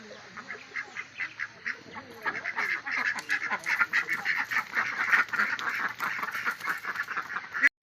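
Laying ducks on a duck farm quack continuously in a dense, overlapping chorus, many birds calling at once and growing louder and busier midway, with no talk over them.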